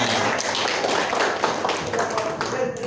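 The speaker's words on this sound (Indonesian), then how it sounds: "tepuk tangan buat kita semua." Dense, steady clapping from a group fills the whole stretch, a busy patter of hands at even loudness with a murmur of voices underneath.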